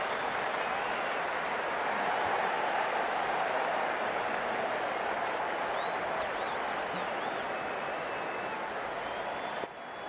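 Simulated stadium crowd in a Pakistan vs New Zealand T20 cricket video game, roaring with dense, steady applause for about ten seconds, with a few faint whistles rising above it, then dropping sharply near the end.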